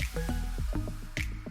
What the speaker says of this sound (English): some of these donuts are dipped by hand into colored icing